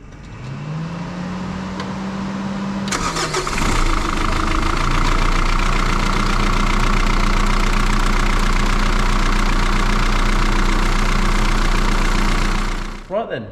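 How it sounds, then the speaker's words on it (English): A Mitsubishi L200 pickup engine, fresh from a throttle body gasket replacement and oil leak fix, cranks and catches, then settles into a steady, loud, close idle for about ten seconds before stopping. "Right then, we're going to start him up."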